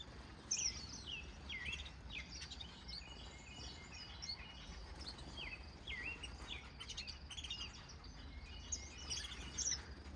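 Exotic finches in an outdoor aviary give a steady stream of quick, high chirps and tweets, several birds calling over one another at moderate distance, with soft insect-like buzzing and a low background hum underneath.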